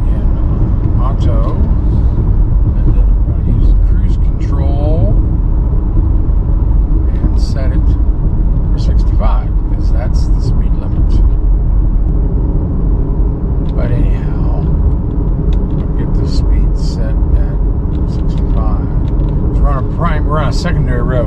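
A 2021 Jeep Grand Cherokee L Overland with a 5.7 Hemi V8 and an eight-speed automatic drives along a Colorado secondary road, its low, steady engine and road rumble running continuously while someone talks over it.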